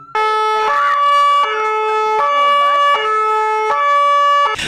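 Police car siren sounding up close at a preschool open day, a loud two-tone wail switching back and forth in regular steps, steady and dominant throughout.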